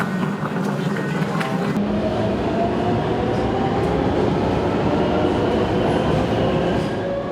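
A Taipei metro train roars along at close range, a loud, steady rumble with a rushing high-frequency hiss that brightens partway through, heard continuously for the whole stretch.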